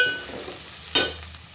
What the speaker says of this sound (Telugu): ఇప్పుడు నేను సొరకాయ ముక్కల్ని వేసుకుంటున్నాను